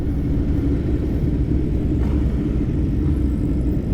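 A CFMoto 450SS motorcycle cruises on a group ride toward Stonehenge, a continuous low engine rumble mixed with heavy wind noise, steady and close throughout.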